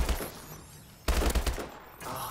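Rapid automatic gunfire from an HBRa3 rifle in Call of Duty: Advanced Warfare multiplayer, loud bursts of shots cutting in and out, with a short pause before a second heavy volley.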